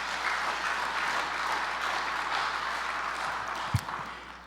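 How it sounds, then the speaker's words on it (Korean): A Korean church congregation at a revival service applauds to welcome the pastor to the pulpit. The clapping is an even, sustained wash that holds steady and tapers slightly near the end. "우리 목사님 나오실 때 우리 다시 한번 환영의 박수 올려드리겠습니다."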